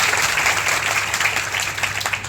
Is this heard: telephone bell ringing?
no